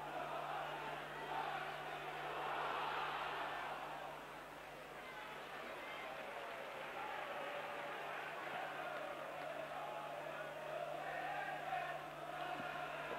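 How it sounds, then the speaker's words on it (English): Sheffield United fans in a 1988 match crowd away at Hull City, a distant, sustained roar of cheering that swells and fades under steady background noise. "the United fans are cheering"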